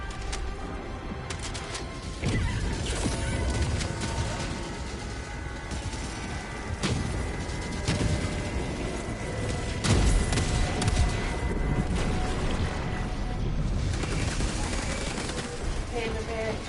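Heavy explosions and sustained gunfire fill a chaotic Helldivers 2 battle, with repeated loud booms and bursts of shots layered over a constant wash of combat noise, a voice occasionally calling out beneath it.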